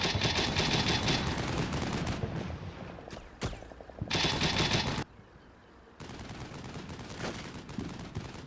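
Gunfire from the Combat Mission Shock Force 2 video game comes in dense, rapid machine-gun bursts and scattered single shots. The bursts are loud and near and break off in short gaps between volleys.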